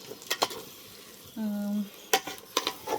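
Onions, chillies, garlic, ginger paste and spices frying in oil for a biryani masala, with a steady sizzle broken by several sharp spoon-and-pan scrapes and stirring clatters. A brief tonal hum sits in the middle.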